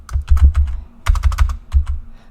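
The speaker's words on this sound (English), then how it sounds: "I'm just typing into chat for you" Fingers type on a computer keyboard in quick bursts of crisp clicks with short pauses between runs, close and clear with no talking.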